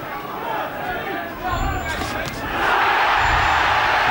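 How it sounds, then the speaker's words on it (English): An Irish crowd at a boxing match roars over a commentator's talk, murmuring at first and then swelling into a louder, sustained roar in the second half. "just listen to the roars from the Irish crowd when Collins comes forward like that"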